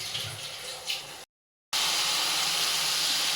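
Spice paste for a fish and potato curry fries in a pan with a loud, steady broadband sizzle, broken by a brief moment of silence before the hissing resumes even stronger.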